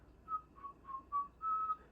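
A lone whistler carries a tune from Snow White (1937), five clear, pure notes in a bouncy rhythm, soft and alone against a quiet background.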